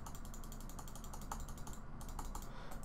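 Buttons on a Razer DeathAdder Chroma gaming mouse clicking in a rapid, fairly even series of crisp taps, faint and close in a quiet room.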